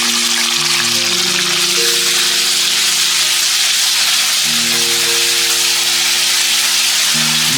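Ground onion fries in oil in a pan over a medium gas flame, giving a steady, even hiss that runs throughout with soft tonal music beneath and no voices.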